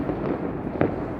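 New Year's Eve fireworks explode over Tirana, two muffled bursts about half a second apart, the second sharper and nearer, over a constant rumble of distant crackling.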